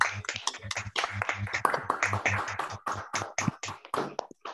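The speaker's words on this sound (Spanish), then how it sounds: "aplaudámonos todos" Participants at an online school education talk applaud together over open microphones, a quiet but busy patter of many overlapping claps with an uneven rhythm and no talking.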